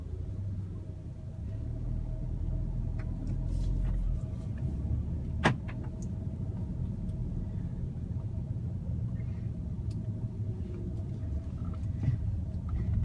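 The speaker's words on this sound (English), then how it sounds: "let me just go for a little drive" A 2015 Audi S3 cruises along at steady speed, its engine and tyre rumble forming a continuous low drone from inside the cabin, with one sharp click partway through.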